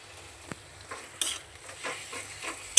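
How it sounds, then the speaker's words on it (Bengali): Tomato sautéing with ginger, garlic and onion in a pan, a soft sizzle under intermittent scrapes and clicks of a spoon stirring, close and fairly quiet. "টমেটোটা তো আদা রসুন দিয়ে আগে কষিয়ে নিতে হবে পেঁয়াজ দিয়ে"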